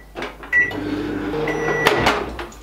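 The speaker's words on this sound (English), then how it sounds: "Into the microwave for just 30 seconds." A microwave oven hums steadily with a low mechanical drone, broken by a clunk near the start and a sharp click toward the end.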